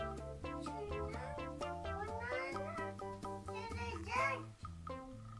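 A cat meows repeatedly in a rising, drawn-out series, close by, with a voice and other talk mixing in around the calls.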